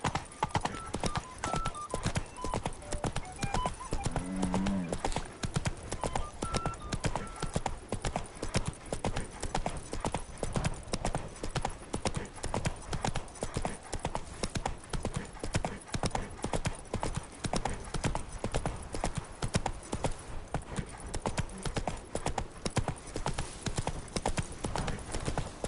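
Geralt's horse Roach trots in The Witcher 3 video game, a continuous, even clip-clop of hoofbeats that stays steady and close throughout.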